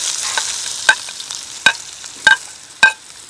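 Onions frying in coconut oil in a hot pan give a steady, close sizzling hiss, broken by four sharp scraping clicks of stirring. No one speaks.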